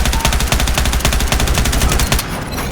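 Rapid bursts of enemy machine gun fire in the Warzone battle royale shooter, loud and close, rattling in a steady rhythm for nearly three seconds before easing off near the end.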